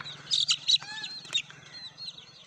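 A few quick rooster and chicken clucks and squawks up close, followed by softer scattered calls as things quiet down.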